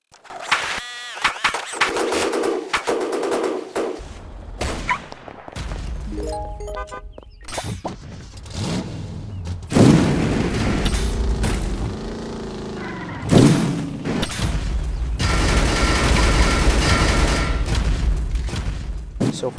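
The turret of the Edgerunner, a mini-tank ground vehicle in Roblox Mad City, fires repeatedly at a target amid booming explosions and thuds, loud and chaotic throughout with varied impacts and bursts.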